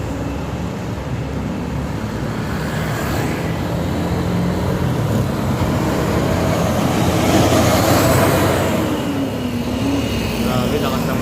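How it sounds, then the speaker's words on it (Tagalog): A bus on a road in Bicol roars past with a loud, sustained engine rumble and road noise that swells toward the middle and stays heavy to the end, with no other sound competing. "Grabe, lakas ng makina."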